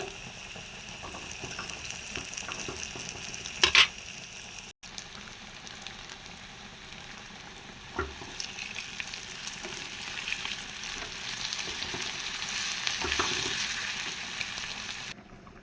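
Tuna fish pieces frying in oil with curry leaves, a steady crackling sizzle throughout with a few louder pops and stirring scrapes, close up and with no talking.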